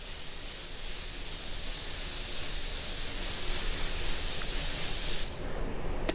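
A fairly wet coat of paint sprayed during a custom paint job: a steady, loud, close hiss that runs unbroken for about five seconds, then cuts off abruptly.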